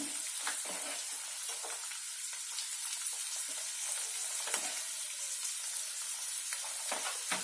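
Onions sizzle and fry in hot oil alongside green chillies, a steady close crackle with occasional stirring clicks, no voices, while cooking a cluster bean curry.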